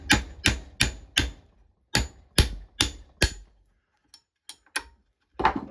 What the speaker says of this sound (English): We're gonna have to try and punch it all the way through.